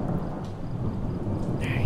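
Thunderstorm in Project Zomboid: heavy, continuous thunder rumbling under steady rain, loud and enveloping, with faint traces of a voice in the background.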